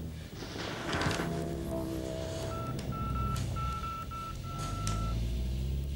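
Touch-tone telephone keys are pressed one after another, a run of clear beeping tones in the second half over a steady background hum.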